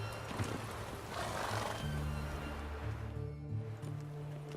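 A horse neighs and whinnies with clip-clop hooves in The Witcher 3 video game, Geralt's horse Roach, loud and close over a game soundscape of steady low tones.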